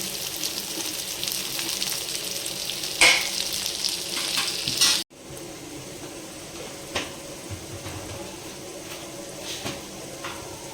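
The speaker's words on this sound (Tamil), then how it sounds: "இது நல்லா வதங்கணும்." Biryani masala sautéing in a pan, a steady close sizzle and fry with scraping stirs and a sharp clatter midway, no talking.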